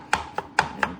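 A knife chops dill pickles on a cutting board: five crisp, close knocks in a quick, slightly uneven rhythm over a quiet background.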